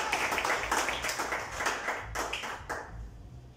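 A church congregation applauds in praise, a dense wash of clapping hands that holds steady, then thins and fades out toward the end, with no talking over it.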